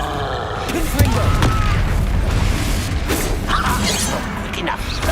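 Confringo fire spell blasts in Hogwarts Legacy, loud booming impacts and crackling bursts within dense game combat noise, with voices speaking over the action.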